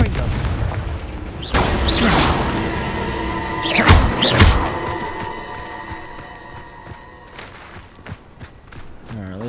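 Several booming spell blasts from Confringo in the Hogwarts Legacy video game, deep thuds with bursting pops around the middle, set against continuous game sound.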